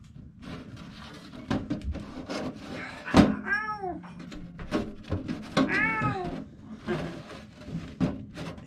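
A cat meows twice, clear, drawn-out calls a couple of seconds apart, mixed with nearby knocks and clattering sounds.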